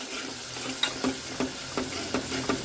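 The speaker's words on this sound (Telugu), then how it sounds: "అల్లం వెల్లుల్లి పేస్ట్ వేద్దాం." Ginger garlic paste hits a hot frying pan, giving a steady close sizzle with repeated stirring scrapes at a regular pace, no voices.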